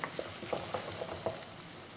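Onion softening in a frying pan for a Spanish potato dish, a soft, steady sizzle close by with small pops and crackles scattered through, fairly quiet and without voices.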